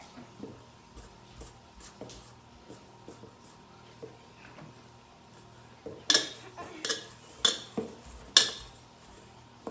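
Pizookie cookie dough is stirred in a bowl, soft repeated scraping taps giving way to louder, sharper clinks of utensil against the bowl, close and without talk.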